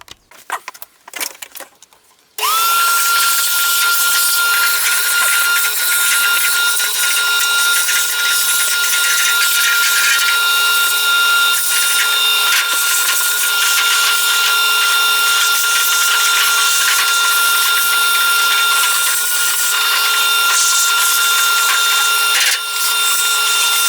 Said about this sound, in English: We'll vacuum out the box